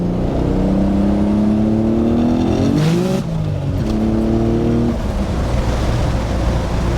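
A 900 hp Nissan 300ZX with anti-lag accelerates hard under boost, its engine roaring loud and close with rising pitch through gear changes and a brief crackle at the shift.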